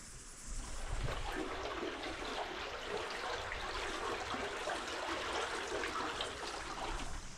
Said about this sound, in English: The river goes through here somewhere. You can just hear it deep down there.